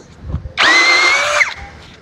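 A Dongcheng DCJZ2060i cordless impact drill driving a 13 mm auger bit runs at speed 2 in one steady, loud burst of about a second, with a high motor whine, then winds down and stops.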